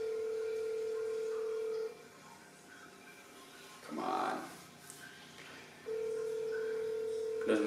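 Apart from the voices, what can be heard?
phone call ringing unanswered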